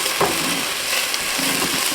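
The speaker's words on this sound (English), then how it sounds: "we're going to go ahead now and add in our garlic" Four cloves of minced garlic sizzle in a soup pot for Italian meatball and tortellini soup, giving a steady close frying hiss with a couple of soft stirring scrapes, and no talking.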